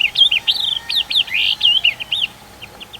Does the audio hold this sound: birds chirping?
yes